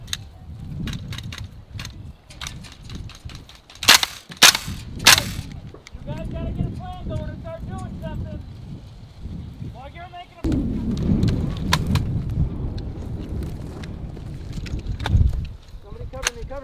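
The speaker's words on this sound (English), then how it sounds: "we're just giving them suppressive fire right now" Gunfire from suppressive fire during a military air base setup training exercise: several sharp, loud shots crack in a quick cluster, with scattered pops before and after, under frequent shouted talk and outdoor noise.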